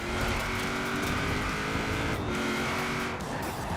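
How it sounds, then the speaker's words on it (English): A car engine roars steadily in the racing game Forza Horizon 4, loud and sustained with a constant droning tone and a brief dip near the end, with no talk over it. "the engine sounds like it wants to eat my soul even more"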